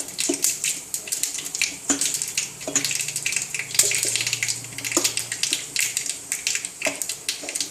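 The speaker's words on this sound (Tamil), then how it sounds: "கடுகு வெடிச்சிச்சு." Mustard seeds splutter and crackle in a pan of hot oil during tempering, a dense, steady popping hiss with scattered sharper pops, close and continuous with no talk.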